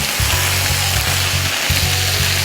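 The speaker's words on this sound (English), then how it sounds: "Now we're really browning." Ham hocks browning in a pan for Southern-style baby limas give off a steady, close hiss of sizzling fat, with faint low thumps underneath.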